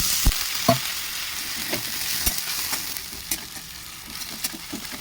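Spices frying in a pan as a little water is poured in, producing a steady hissing sizzle with scattered pops and crackles, moderately quiet and without talking.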